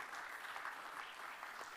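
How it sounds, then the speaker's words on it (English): A conference audience at a high-level summit roundtable gives the panel a steady round of applause, heard faint and distant as an even wash of clapping. "Let's give my panel a round of applause"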